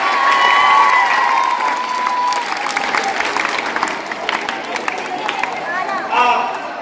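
Loud, dense applause from a crowd of students and teachers at a school environmental awareness quiz event, with some cheering and chatter mixed in, steady throughout and fading slightly toward the end.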